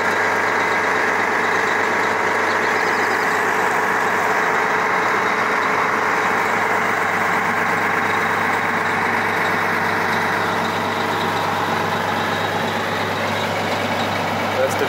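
A work truck fitted with a winch, front blade and ladder idles steadily to warm up, a constant low rumbling engine drone held close throughout, with someone talking over it.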